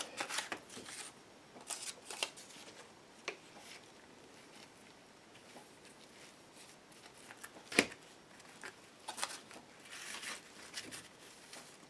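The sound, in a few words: scissors snipping paper corners of an altered book box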